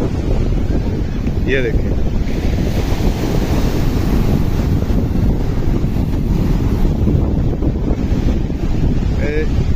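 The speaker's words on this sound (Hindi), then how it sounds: "समंदर आ रहा है, यानी कि समंदर देखें फुल बेहतरीन।" Sea waves and strong wind at Sandspit beach in Karachi: a loud, steady roar of surf and wind buffeting the microphone throughout, with someone briefly speaking over it.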